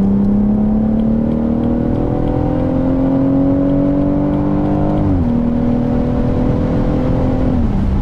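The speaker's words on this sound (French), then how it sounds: "Un son les amis, juste exceptionnel, super agréable," A BMW M140i inline-six engine pulls steadily while driving, its tone rising smoothly before a quick gear change drops the pitch, then it climbs again, loud and close throughout.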